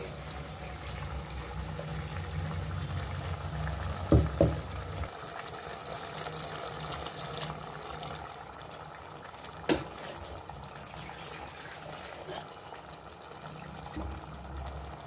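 Ground coconut, cashew and almond paste is poured into simmering chicken kurma, a soft, faint liquid pour with a few brief clinks of a utensil and a low cooking hiss, with no talking.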